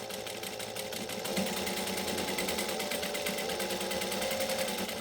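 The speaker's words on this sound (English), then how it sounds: "I don't have my foot flat to the floor when I'm sewing over pins." Steady whirring hum of a sewing machine stitching fabric over pins at a moderate, not full, speed, close and continuous with a fast even needle rhythm.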